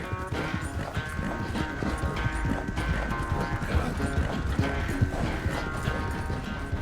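A horse gallops steadily in Red Dead Redemption 2, its hooves drumming in a fast, even rhythm over rough ground for several seconds, close and loud with faint tack rattle and no speech.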